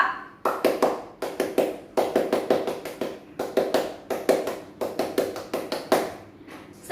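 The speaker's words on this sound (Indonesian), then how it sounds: "2 kali tepuk pramuka" A group of Indonesian Scouts performs the rhythmic tepuk pramuka clap twice indoors, bursts of sharp unison claps in a patterned rhythm, the sequence repeated, loud and close with no talk.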